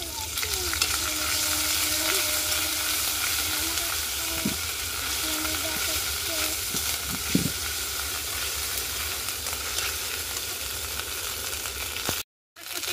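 Ginger and green chili paste frying in a pan gives a steady, close sizzle with occasional stirring scrapes and no voices, stopping briefly just before the end.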